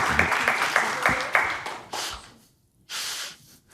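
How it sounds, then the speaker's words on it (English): Brief applause at an innovation forum award ceremony for three winners, with a burst of clapping that fades out, a short gap, then another short swell. "a big applause is well deserved for these 3 winners"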